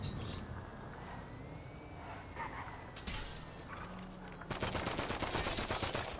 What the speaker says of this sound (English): Oh, you have guns!